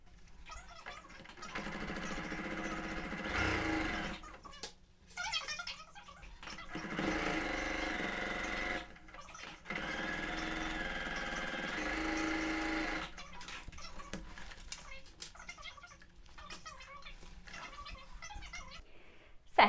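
Sewing machine stitching the seams of a matelassé quilt block, running in steady bursts of a few seconds each with brief stops between, close and alone.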